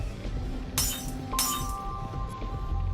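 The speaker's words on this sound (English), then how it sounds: "the sound of shattering glass echoed" Glass bottles hurled to the ground shatter twice in a video game scene, each a loud bright crash with tinkling shards, separated by about half a second, followed by a lingering faint ringing tone.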